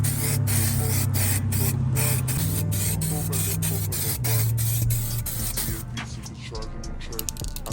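Red spray paint hissing from an aerosol can onto a car brake caliper, close and steady in long bursts with short pauses, while someone talks over it.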